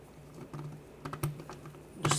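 Drain plug being refitted on the transmission pan of a 2009–2010 BMW 535i xDrive: a few faint, scattered metallic clicks and taps, close by, with a soft hum underneath and no talking.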